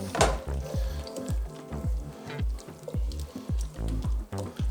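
Parsley and basil stalks are stirred into simmering tomato sauce, giving a rhythmic run of thick bubbling plops over a soft sizzle, close and moderately loud.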